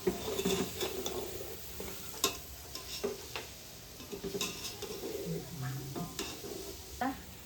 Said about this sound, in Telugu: చికెన్ మసాలా మసాలాలన్నీ వేసి బాగా వేయించాలి